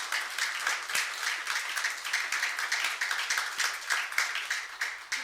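Dense, steady clapping from a church congregation fills the room, many hands beating together in a continuous even patter at moderate distance.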